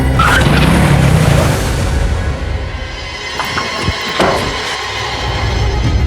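A car brakes hard and stops abruptly, its tires skidding and squealing with a loud burst of road noise at first, then the sound settles into quieter rumbling and a few knocks.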